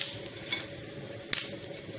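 A steady soft sizzle of urad dal and cumin seeds frying in oil in a pan, with a few quick clinks and scrapes from stirring.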